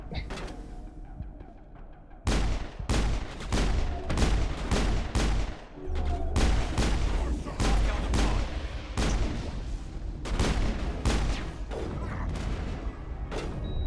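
Rapid bursts of sniper rifle fire and explosive gunshots from the video game Mass Effect, sharp repeated cracks in an irregular barrage after a quieter opening, loud and close with a faint voice underneath.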